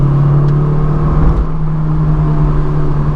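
A Honda S2000 with an aFe Takeda intake gives off a loud, steady engine drone with a strong low hum, close and unbroken, with no voices.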